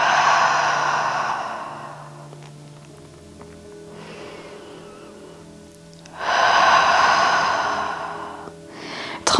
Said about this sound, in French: On inspire par le nez. On expire bouche ouverte.